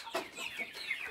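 Chickens cluck and chatter in a backyard poultry coop, several short soft calls in quick irregular succession, faint and close, with no voices.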